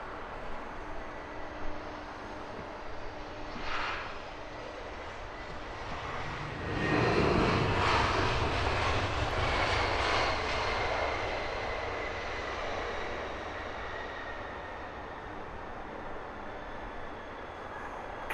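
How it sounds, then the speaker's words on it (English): A jet at Heathrow Airport roars as a broad, rushing engine noise that swells to a peak midway and then slowly fades, heard from a distance over steady outdoor rumble. "Let's just enjoy the planes, eh?"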